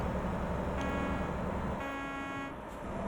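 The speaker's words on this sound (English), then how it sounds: "There's my horn." Horn of a fire truck in American Truck Simulator, a couple of short toots over a steady low engine and road drone.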